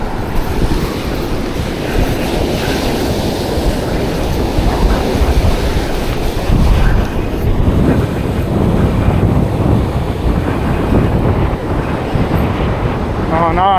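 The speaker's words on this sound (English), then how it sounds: "Oh no, the waves breaking at the same time" Ocean waves break on a shore during a salmon fishing session, a loud, continuous rumbling surge heavily buffeted by wind across the microphone.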